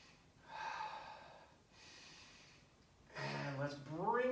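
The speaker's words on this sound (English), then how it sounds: "Take a few deep breaths." Deep breaths taken during a breath work and stretching session, a couple of slow audible exhales followed by a louder, drawn-out breath, close to the microphone with no other sound.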